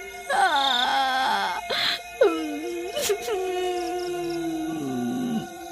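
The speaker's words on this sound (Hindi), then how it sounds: "आधी रात होने पर जंगल से किसी के रोने की आवाज" An eerie crying wail rises from a forest at midnight: loud, drawn-out moaning howls that bend and waver in pitch, heard alone.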